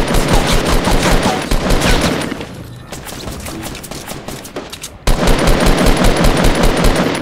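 Loud, dense automatic gunfire rattles in a video game, sustained bursts that drop to a quieter lull before a sudden return to heavy continuous shooting.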